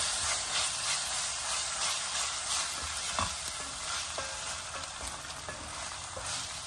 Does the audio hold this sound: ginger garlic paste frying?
yes